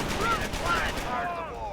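Gunfire from the World War II strategy game Company of Heroes, a quick burst of rattling shots under a shouted voice and game music.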